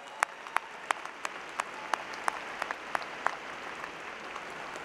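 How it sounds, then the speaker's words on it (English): An audience at a fall graduation ceremony applauds a student who sang the national anthem, steady clapping from many hands with distinct sharp claps standing out, moderately distant and sustained throughout. "Would you please give a big round of applause for Emily for the great job she did singing the national anthem?"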